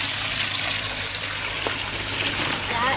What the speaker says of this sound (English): I'm just going to pour it through into this bag here